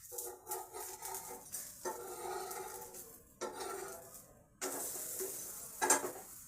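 Oil sizzles under a cucumber roti cooking on a shallow pan, with a steady crackle broken by several sharp clinks and scrapes of a utensil against the pan, loud and close.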